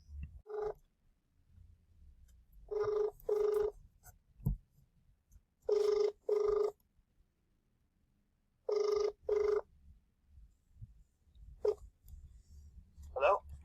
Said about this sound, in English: I am going to pause this and try to get Danny on the phone